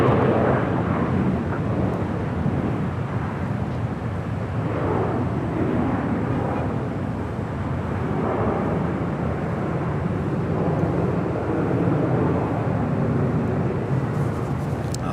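A jet airliner roars on the runway at Los Angeles International Airport, a loud, steady, broadband engine rumble that holds through the whole stretch with no talking over it.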